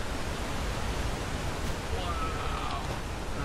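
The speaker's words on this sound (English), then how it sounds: "Man, listen to those waterfalls." Steady broadband rushing of waterfalls in Skyrim, a continuous even roar filling the scene at constant loudness with no distinct events.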